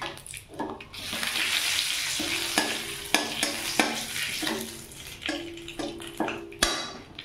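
Whole cumin seeds and bay leaves sizzle in hot oil in a pan, a steady crackling fry with repeated scraping stirs of a utensil knocking against the pan at close range.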